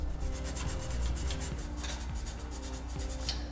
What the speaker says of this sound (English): use our half-inch nylon tube brush, part number 814092, to thoroughly clean out the threads